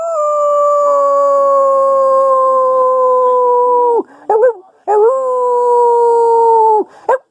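A wolf dog gives long, drawn-out howling, loud and close, holding a steady pitch for several seconds, dipping and breaking briefly, then rising again into a second sustained howl.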